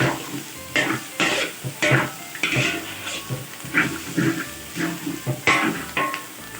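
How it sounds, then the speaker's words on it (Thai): Minced pork with holy basil is stirred in a hot pan, giving repeated scraping and clattering strokes in an uneven rhythm over a soft background sizzle. The sound is close and moderately loud, with no talk. "แล้วเราก็คนรวมไปเลยค่ะ"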